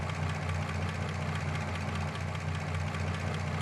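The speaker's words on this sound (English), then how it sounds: "why does this thing sound like a goddamn diesel?" In the CarX Drift Racing video game, a car engine idles with a deep, steady, diesel-like rumble, loud and continuous with no pauses and no talk over it.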